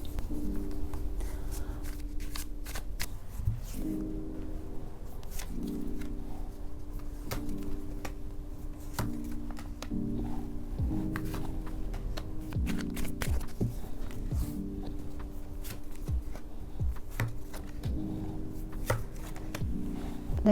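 Tarot cards are shuffled close up in repeated soft riffling bursts with short pauses between them, steady and quiet, with no voices.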